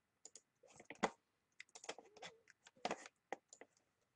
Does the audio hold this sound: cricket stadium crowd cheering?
no